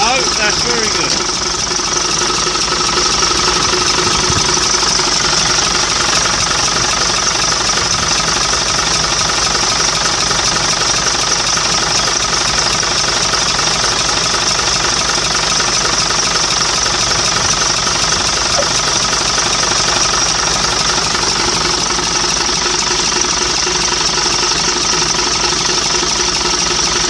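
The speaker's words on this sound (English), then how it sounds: "Got the big AC engine in this one" A big AEC diesel engine in a Routemaster bus runs steadily on a cold winter check, its close, loud drone carrying a persistent knocking clatter throughout, with occasional voices nearby.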